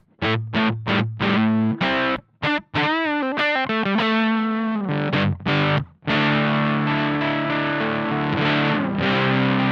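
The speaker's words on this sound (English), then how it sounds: "to give us our grittiest or our most distorted sound" Electric guitar through a Love Pedal English Woman pedal at maximum distortion, thick and gritty, strums short stabs then sustains a buzzing, saturated chord that rings out loudly.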